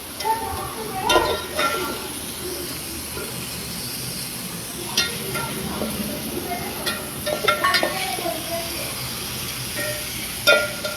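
Food with turmeric cooks slowly over low heat in oil, giving a soft, continuous sizzle with occasional ladle stirs and metallic clinks spread through the stretch.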